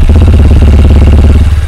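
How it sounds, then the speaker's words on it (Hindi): A 2024 Honda Hornet 2.0 motorcycle idles close by, its exhaust throbbing loud and steady in a fast, even pulse with a slight dip near the end. "इसका सबसे पहले एग्जॉस्ट साउंड सुनिए"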